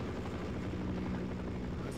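Helicopter in the Half-Life video game, a steady, loud rotor drone with a low thrumming hum running continuously through the moment, with no pauses or breaks.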